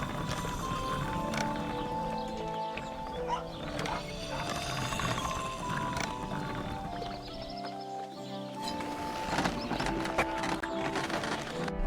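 Clopping hooves and a horse's whinny in Kingdom Come: Deliverance II, layered over a continuous wash of music and ambient effects.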